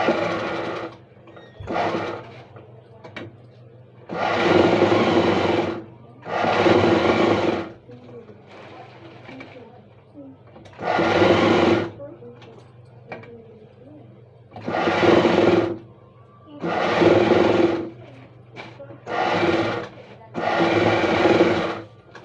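A domestic sewing machine stitches a blouse lining in repeated bursts of rapid mechanical whirring, each lasting a second or two, separated by quieter pauses with faint handling, close to the microphone.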